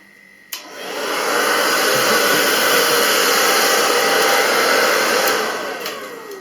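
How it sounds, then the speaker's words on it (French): A hair dryer blowing hot air onto a sink's silicone seal to soften it. It switches on with a click and then holds a loud, steady whoosh close by before starting to wind down, with no talking. "vous prenez votre cutter et vous allumez le séchoir"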